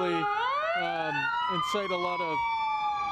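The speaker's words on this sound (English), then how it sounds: "Some police cars and an ambulance now just going by the precinct here." Police car and ambulance sirens wail past a police precinct during a protest curfew, rising and falling tones sweeping loud and close, with a reporter speaking over them.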